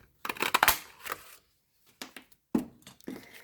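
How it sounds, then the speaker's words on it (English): A 2 1/4 inch circle punch presses through paper for a box craft, heard as a few close, crisp crunching snaps and rustles with brief pauses between them. "we're going to take our 2 1/4 inch circle punch, and we're just going to punch out a circle"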